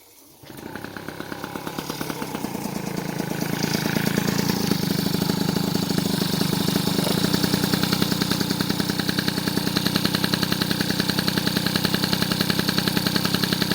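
Freshly rebuilt Volkswagen T3 van engine: it cranks, catches and settles into a loud, steady, rapidly pulsing running note close by, with no talking.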